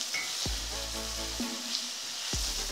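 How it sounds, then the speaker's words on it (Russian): Carrot and radish fry with meat in a kazan, giving a continuous crackling sizzle broken by three dull scraping stirs of a utensil against the pot. "И теперь не очень часто, но все же помешивая, будем обжаривать все вместе."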